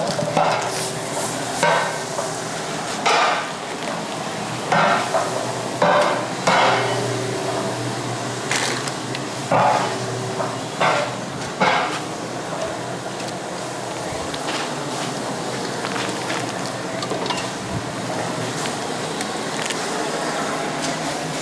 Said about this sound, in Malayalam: ആദ്യം തന്നെ നമുക്ക് ബട്ടർ ഇട്ട് കൊടുക്കാം ഞാൻ ബട്ടറിലാണ് കേട്ടോ അടിക്കുന്നത് ബട്ടറും സൺഫ്ലവറും മിക്സ്ഡ് ആണേ